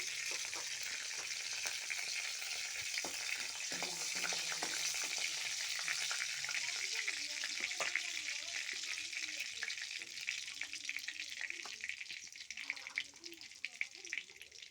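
Bay leaf, dried chillies and cumin seeds sizzling in hot oil, a loud, dense, steady crackle that runs on without pause, close up, with faint stirring scrapes.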